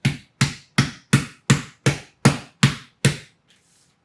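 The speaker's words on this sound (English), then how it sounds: "So what you're going to do is pound it, turn it over, and pound the other side." Meat mallet pounding a pork loin to tenderize it, with nine loud, close, evenly spaced thuds in a steady rhythm, then a pause and one more blow at the very end.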